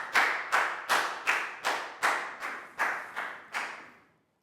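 A classroom of pupils claps in a brief round for one child, about ten quick, evenly spaced bursts that fade out at the end, with no talk over it.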